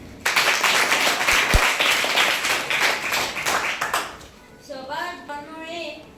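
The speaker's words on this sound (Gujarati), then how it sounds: "સભાસદોએ બકુલાલની અપીલને તાળીઓથી વધાવી દીધી." Applause at a school play about an honouring ceremony, a burst of loud clapping for about four seconds that fades as a voice begins talking over the tail end.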